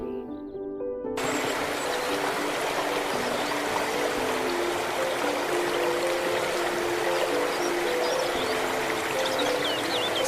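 A river flows in a steady broadband rush where a girl washes clothes, the water sound rising after a brief musical opening and continuing loud and unbroken.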